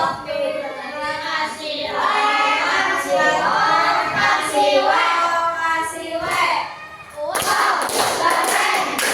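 Classroom children giving a rhythmic "wow" clap for a group that has just presented, loud patterned clapping and chanting voices filling the room, then a burst of sharper claps near the end.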